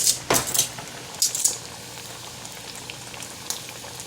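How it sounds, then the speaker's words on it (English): Chicken tenders fry in hot oil, with a steady low sizzle broken by a few sharp pops and metallic clinks, as from tongs against a pan, and no talking. "I'm frying those also."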